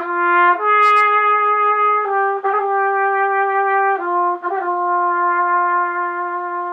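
A brass instrument plays a steady phrase of held notes, with quick little grace notes slipped in between a couple of them, solo and close.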